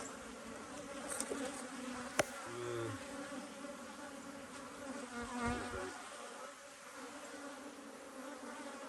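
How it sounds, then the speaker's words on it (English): Caucasian honey bees buzz steadily at an apiary, a dense, continuous drone close by with a few brief louder passes of individual bees, no talking. "those bees, they're all Caucasian bees"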